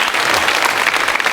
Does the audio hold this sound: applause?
yes